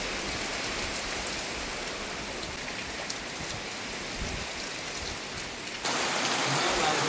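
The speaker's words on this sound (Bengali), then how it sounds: "এক টানা বৃষ্টি চলছে পুরো দেশ জুড়ে বন উপকূলে" Continuous monsoon rain pours in the Sundarbans mangrove forest, a steady broadband hiss of drops on leaves and water that swells louder near the end, with no talk over it.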